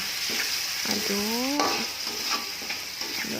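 Spices with sugar, mushroom stock and salt stir-fried in a pan: a continuous close sizzle broken by spatula scrapes, with a short squeaky whine partway through.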